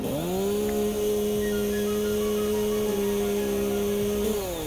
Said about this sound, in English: perhaps these could be destroyed by a chainsaw